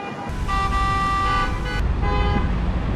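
Car horn honking in New York City traffic, a steady blaring tone held for over a second, then a shorter second honk over a constant roar of street noise.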